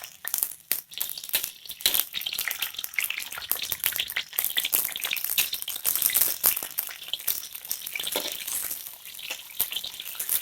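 Small anchovies frying in hot oil, a dense continuous crackle and sizzle with rapid popping, close and loud throughout.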